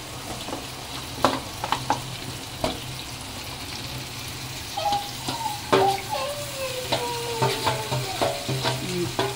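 Onions with meat are fried and stirred in a pan for a chicken curry and biryani, giving a steady low sizzle. A spoon scrapes and clacks against the pan in irregular bursts, getting busier toward the end.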